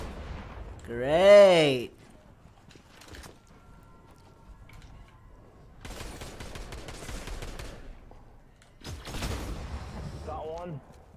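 Gunfire rings out in the Fortnite no-build duos game, bursts of shots and rattling fire spread across the stretch, with someone talking between them.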